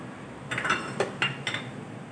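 Potato cheese ball stuffing being mixed with onion, coriander and green chili, a spoon clinking against the bowl in four or five light, quick taps, close and fairly quiet.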